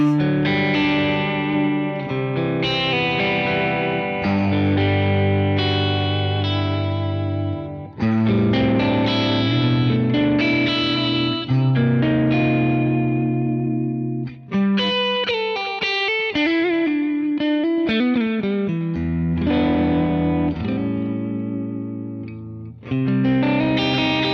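Electric guitar played through a Kemper amp profile with delay switched on, a mix of distorted sustained chords and a brighter picked melodic passage with echoing repeats, loud and continuous with no talking.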